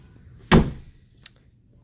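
Passenger-side door of a 2019 Chevrolet Corvette, parked on the second floor of a garage, gives one solid thunk followed by a faint lighter click a moment later, close and otherwise quiet.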